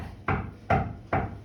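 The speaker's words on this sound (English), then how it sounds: "the door was knocked, and he opened the door" A storyteller knocks on wood as a door-knock sound effect for an Irish fairy tale: three sharp, evenly spaced knocks, close and clear, with quiet between them.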